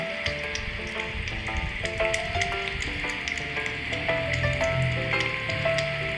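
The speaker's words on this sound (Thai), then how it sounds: "ให้ฟังเสียงเขากินน้ำนะคะ" A stray cat laps water in quick, irregular little clicks and wet smacks, close and fairly quiet, over a faint background hum.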